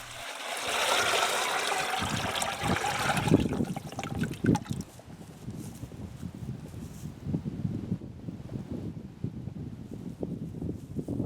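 Clear water poured off the top of clay slurry that has settled for a couple of hours, a soft trickling splash in the opening seconds that gives way to faint dribbles and light handling noise.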